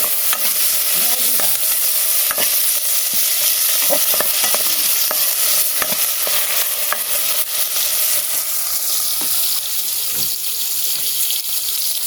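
Garlic and ginger sauté in a pan during outdoor cooking on a farm, a loud continuous sizzle with scattered clinks and scrapes of a utensil stirring throughout.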